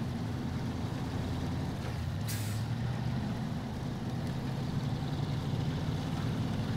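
A Fleet Star truck on highway tires drives in a video game, a constant low engine drone and rolling rumble with a brief hissing burst partway through, steady and fairly close, no speech.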